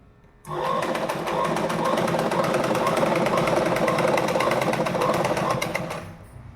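A sewing machine runs in one steady, fast continuous burst of top stitching along a jacket strap, close and loud, with no talk.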